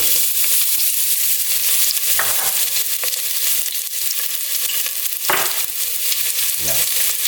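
White onion sizzles steadily in a pot for seafood soup, a dense, close frying hiss with a few sharper scrapes of stirring breaking through, and no voices.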